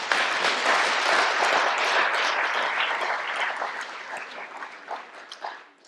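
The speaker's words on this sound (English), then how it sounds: "So I think a round of applause." An audience at a charities conference gives a sustained round of applause after a session, dense and steady clapping that slowly thins and fades toward the end.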